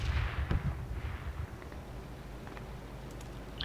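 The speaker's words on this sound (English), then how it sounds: "I'm gonna shoot it." Loud booming video game gunshot at the start with a rolling low-end tail, then quieter ambient rumble and a few faint distant pops.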